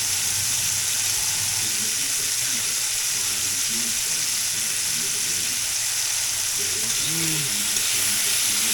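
Cooking oil spatters and sizzles steadily in a hot pan, a dense, loud frying hiss that runs continuously throughout with small crackling pops layered on top, close by and with no talking.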